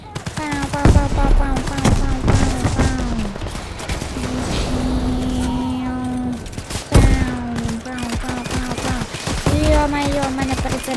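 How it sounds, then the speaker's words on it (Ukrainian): Rapid gunfire bursts and RPG launches from the Roblox war game War Machines, loud and repeated in clustered volleys with a brief lull midway, alongside tonal game sounds and a voice partly over it. "А вони по мені стріляють РПГ."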